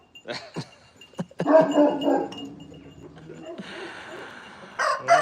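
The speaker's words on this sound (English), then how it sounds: "He's barking at Cinko." A dog barks a few sharp times near the start, with rooster crowing and clucking from fowl around it and a brief voice in the background.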